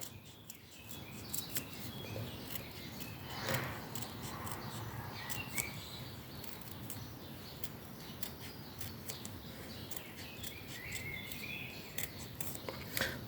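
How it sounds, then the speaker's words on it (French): Small birds sing outside an open window, their faint, scattered high chirps and tweets recurring over a soft, constant room and outdoor hiss. "Je sais pas si vous entendez les petits oiseaux"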